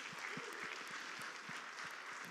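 A church congregation claps steadily together, a dense wash of applause with soft rhythmic beats, heard at a moderate distance and otherwise alone.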